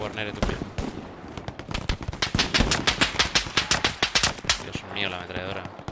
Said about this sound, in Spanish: La ametralladora por aquí, eh.